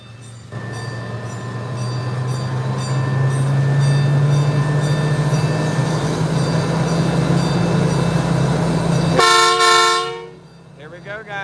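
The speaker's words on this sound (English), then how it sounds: "Can you blow the horn a little extra when you leave?" A train horn blows one long, loud, continuous blast as the train pulls away, with rumbling rail noise underneath. The horn cuts off near the end and a voice briefly follows.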